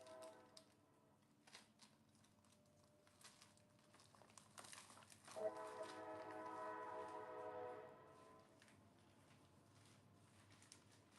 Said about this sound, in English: Y'all hear my train in the background?